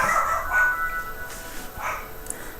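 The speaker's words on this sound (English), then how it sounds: "That's my dog going crazy in the background." A dog barks and yips excitedly in the background, several short bursts in a row, somewhat distant and muffled indoors.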